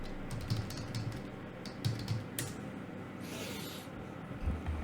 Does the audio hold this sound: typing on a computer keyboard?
yes